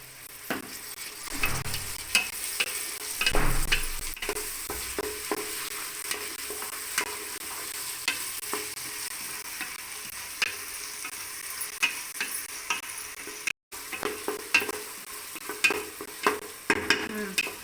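Onions and tomatoes with green chillies sauté in a pan for a chicken keema biryani, a steady close sizzle broken by repeated spoon scrapes and stirring clatter.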